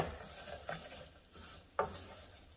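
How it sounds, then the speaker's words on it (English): Chopped onion sautéing with golden toasted rice in hot oil, a soft frying hiss under a few scraping stirs of a spoon against the pan, with one sharper scrape near the end. "I'm gonna add the onion and saute that for about a minute or so"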